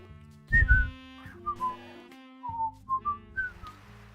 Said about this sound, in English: I don't know if the whistling comes through the mic.